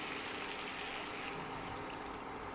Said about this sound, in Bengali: এখন একটু জল দেব